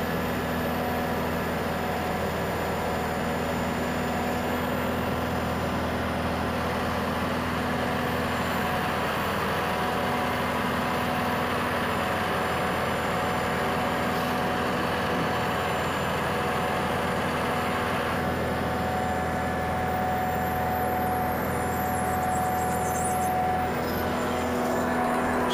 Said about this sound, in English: This is the pump that stays on the trailer, hooks to his hose, and it mixes like